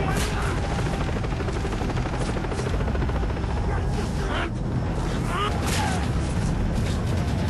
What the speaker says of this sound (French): Là on entend l'hélico.